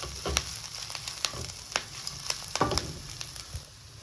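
Moringa leaves sizzle steadily in a pan, with a continuous crackling fry punctuated by sharp pops and the clatter of stirring, close and moderately loud.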